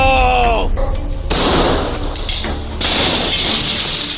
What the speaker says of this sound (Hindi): इसने तो शीशा तोड़ दिया।